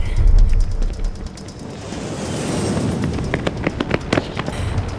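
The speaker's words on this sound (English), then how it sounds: "Cluster bombs." Cluster bombs go off in an action movie: a loud opening boom gives way to a rolling rumble, then a rapid string of sharp cracking blasts builds toward the end.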